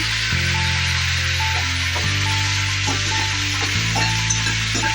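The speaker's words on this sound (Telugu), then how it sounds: "పల్లీలు కూడా చూడండి చాలా బాగా వేగిపోతుంది" Peanuts fry in hot oil for gongura pachadi, giving a loud, constant sizzle with a steady hum beneath it and a few soft stirring scrapes.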